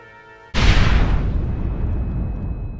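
Explosive charges blow a gate in the game Red Dead Redemption: a sudden loud boom after a short quiet stretch, followed by a long rumbling roar and debris that slowly fades, with no voices.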